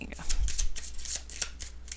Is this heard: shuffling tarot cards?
yes